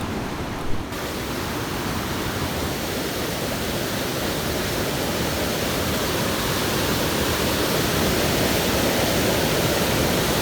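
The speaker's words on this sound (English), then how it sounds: "It's one of the most spectacular waterfalls east of the Mississippi." Constant, dense roar of a large waterfall at Pictured Rocks, loud and unbroken, with water crashing steadily and no voices.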